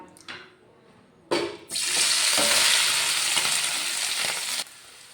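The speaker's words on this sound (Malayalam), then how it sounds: "നമുക്കിനി ഇതിന് വേണ്ടിയിട്ടുള്ള മസാലയ്ക്കുള്ള ചിക്കൻ ഒന്ന് ഫ്രൈ ചെയ്തെടുക്കണം" Chicken frying in a pan for a snack masala: a quiet start with a clatter, then a loud, steady hiss of sizzling oil that continues for several seconds before cutting off abruptly, with no voices.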